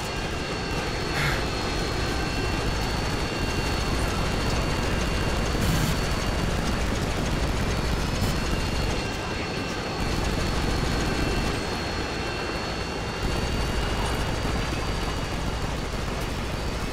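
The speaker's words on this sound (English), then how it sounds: "Friendly Apache inbound." An AH-64 Apache attack helicopter flies in a Call of Duty Modern Warfare match, producing a steady loud engine and rotor drone that holds throughout with small shifts in intensity, without any voices.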